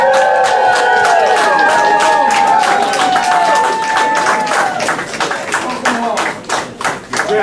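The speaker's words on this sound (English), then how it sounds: "Let's be loud and cheer them on" A crowd welcoming home veterans at an Honor Flight homecoming claps and cheers loudly, with dense rapid applause and whoops, and a voice speaking over the noise before it thins slightly.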